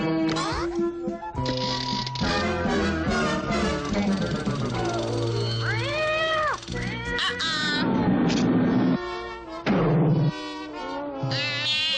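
Repeated cartoon cat meows, some long and wavering like caterwauling, mixed with busy background sounds and occasional voices.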